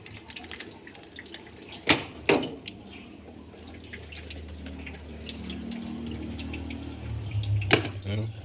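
Water poured from a basin splashes and trickles over ice in a freezer, with a couple of sharp cracking knocks and a steady faint running flow.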